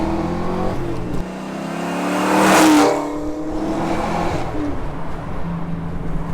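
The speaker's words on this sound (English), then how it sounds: "We're gonna test out the 0 to 60. We're just gonna roll into 1st." A 1988 Ford Mustang 5.0 convertible launches hard from a roll, its V8 revving up through first gear to a loud peak midway, then dropping and pulling again on a rising note, heard close from inside the car.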